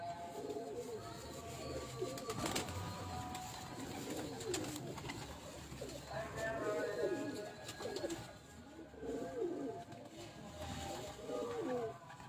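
A prized pigeon coos in a repeated series of soft, throaty rolling calls, near and clear, while a voice talks intermittently in the background.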